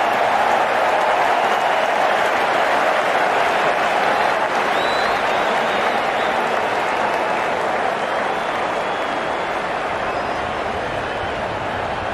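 Sustained crowd applause and cheering in the cricket video game Cricket 19, a dense continuous roar of clapping that stays loud and steady throughout, with a commentator's voice faintly mixed in.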